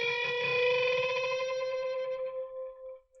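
A single sustained electric guitar note played with high gain rings out clearly, bright and harmonically rich, then decays and fades over about three seconds, with no talking.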